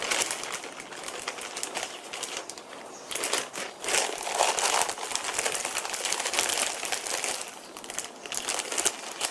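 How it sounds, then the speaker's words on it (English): A plastic zip bag crinkles and rustles steadily as sliced grilled wagyu beef and thyme leaves go into it, a busy close-up crackle with no talking. "And then I've got this zip bag here."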